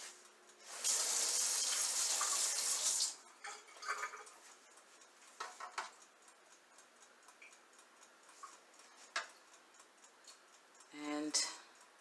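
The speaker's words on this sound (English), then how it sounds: "I'm just going to rinse off these tongs." Tongs are rinsed under a running tap in a darkroom sink for cyanotype printing: a loud burst of water for a couple of seconds, then scattered clinks, drips and splashes.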